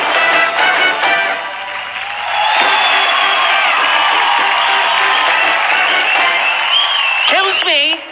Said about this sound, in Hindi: बहुत जोरदार तालियां वीवो V9 के लिए भी